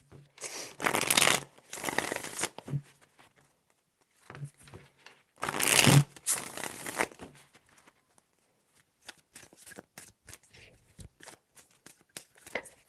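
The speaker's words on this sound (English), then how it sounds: "3 shuffles." Tarot cards being shuffled by hand in three separate bursts of riffling and flicking, close and crisp, with quieter card handling between them.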